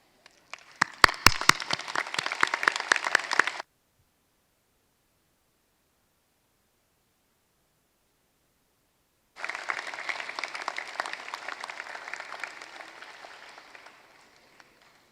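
A graduation ceremony audience applauds in a dense burst of clapping, then falls silent for several seconds before a second sustained round of applause that gradually fades out.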